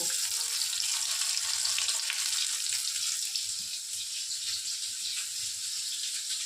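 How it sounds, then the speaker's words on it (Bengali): Pointed gourd pieces coated in gram flour, rice flour, salt and turmeric batter frying in hot oil, a bright continuous crackling sizzle, close and steady throughout with no talking. "এবার বেসনটা লাগিয়ে পটলগুলোকে ভাজবো।"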